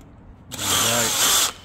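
A power drill drives a screw into a tunnelhouse saddle, one short, steady whirring burst of about a second, close and fairly quiet.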